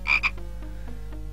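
A frog in the point-and-click adventure game Simon the Sorcerer gives two quick, bright croaks close up, followed by a quiet, low background hum and soft game ambience.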